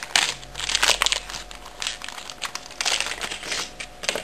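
Card packaging of a Polaroid film pack is opened by hand, giving close crinkling and crunching bursts that come and go irregularly between short quieter gaps.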